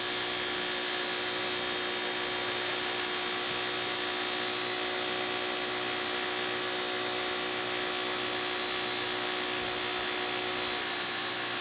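A small fischertechnik motor driven by PWM through a transistor from a Raspberry Pi whines with a steady high-pitched electric hum, continuous and fairly loud for the whole stretch with no talking.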